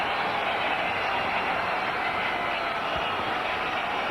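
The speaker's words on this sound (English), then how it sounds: "The crowd's enjoying this" Dense roaring crowd noise in a cricket stadium during a 1998 India v Australia one-day final, steady and loud across the whole stretch without distinct breaks.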